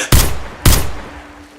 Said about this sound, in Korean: 두 발의 총성과 함께